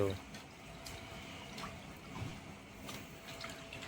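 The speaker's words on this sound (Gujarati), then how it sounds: "તો આપણે હવે ધોઈ નાખવાનું છે સારા પાણીએ." Fish pieces are rinsed in water, making soft, faint sloshing and dripping sounds at close range, with a low, continuous watery background.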